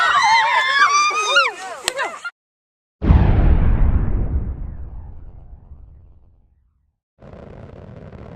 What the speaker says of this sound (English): When the air reaches the nose cone, it pushes back down the launch tube and propels the rocket forward